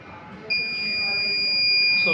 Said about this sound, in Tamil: ஸோ ஹீட்டிங் முடிஞ்சிச்சு அப்படின்னா ஒரு பீப் சவுண்ட் வந்துருச்சு.